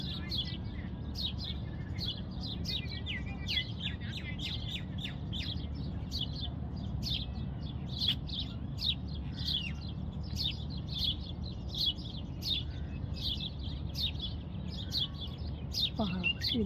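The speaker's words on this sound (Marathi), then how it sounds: "आणि इथे ज्यात आवाजही येत आहे ना तुम्हाला पक्ष्यांचा, आणि आजूबाजूला देखील खूप सारे पक्षी आहेत इथे।" Many birds chirping around a Manila tamarind tree at sunset, a continuous chorus of quick repeated tweets over a low background rumble, moderately near.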